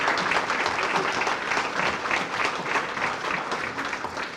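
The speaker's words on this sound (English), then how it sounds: "let's have a nice round of applause for Deputy Chief Kevin Brady" Crowd applause for Deputy Chief Kevin Brady at a Junior Fire Academy graduation ceremony in the City of Linden, a full, sustained round of clapping from a sizable audience with no talking over it.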